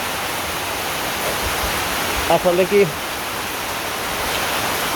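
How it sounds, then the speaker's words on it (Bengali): Steady rain pours down in a continuous, even hiss that fills the whole scene, with a brief, faint voice heard partway through. "দেখেন বৃষ্টি নেমে গেছে প্রতিদিন বৃষ্টি"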